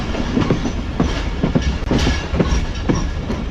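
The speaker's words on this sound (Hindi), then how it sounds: "हमारी 45 में पाकिस्तान एक्सप्रेस 4:55 पर अप्रोच बना रही है कोटरी जंक्शन रेलवे स्टेशन पर" The Pakistan Express rolls steadily toward Kotri Junction station with a loud, continuous rumble and rhythmic clickety-clack of wheels over rail joints, heard from on board.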